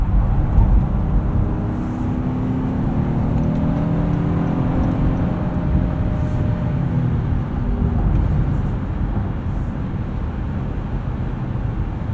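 Steady road and engine hum from a 2019 Honda Passport Elite AWD driven briskly through corners, a continuous mid-level drone with slight whir and tire noise, no talking.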